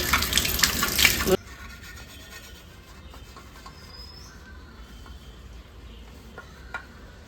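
Tap water gushes loudly over dishes, a glass and a pressure cooker for about a second, then cuts off, leaving a quiet room with faint clinks and movement.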